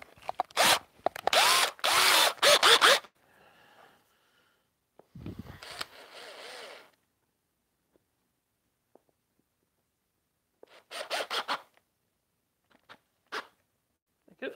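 A power drill drives a screw into a wooden Death Star phone stand in a wood shop: two close bursts of whirring, a short softer run, then quiet gaps with a few light clicks and handling noises.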